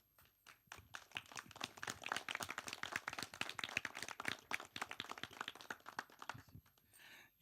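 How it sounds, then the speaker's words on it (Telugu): An audience claps together at a thank-you meet for a Telugu TV show, dense rapid applause building quickly, holding steady for several seconds and then tapering off to a few scattered claps at the end. "ఒక్కసారి అందరూ క్లాప్స్ కొట్టండి."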